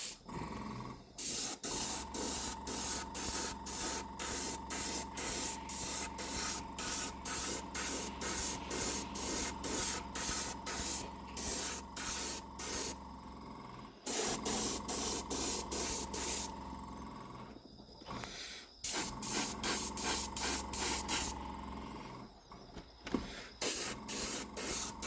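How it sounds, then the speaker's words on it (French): Airbrush spraying a grime wash onto the lower body sides of a Jouef Z2 model train car, a steady close hiss in repeated rapid pulses, broken by a few short pauses. "on va finir avec un lavis crasse pour salir les bas de caisse, les flancs de caisse"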